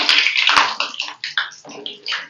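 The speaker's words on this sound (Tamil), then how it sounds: "எண்ணெய் காஞ்சிருச்சு நம்ம போட்டுடலாம் எண்ணெயில்" Homemade evening snacks made from three ingredients dropped into hot oil, producing loud, close, steady sizzling and bubbling hiss that rises and falls in short surges.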